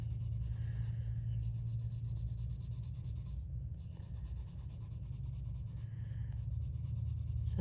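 Pencil or colored pencil strokes on textured paper lay down a base layer in a continuous scratchy rubbing with brief pauses, close and steady, and nobody talks.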